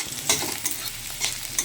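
Chopped green chilli, onion and two garlic cloves fry in a pan, a close, continuous sizzle broken by a few scraping stirs, with no talk.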